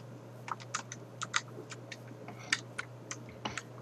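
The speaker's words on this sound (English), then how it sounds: "is that you typing?" Typing on a computer keyboard heard over voice chat during a MineZ Minecraft survival game: a scattered run of light, quick key clicks at irregular intervals over a steady low hum, fairly faint.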